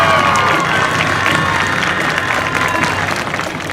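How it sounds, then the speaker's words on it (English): Steady crowd applause and cheering fill the stands at a Texas high school homecoming football game, Sanger Indians at Howe Bulldogs, for the homecoming king; a dense, continuous wash of clapping throughout. "The crowd that you hear is the applause for the homecoming king, Jordan Jones."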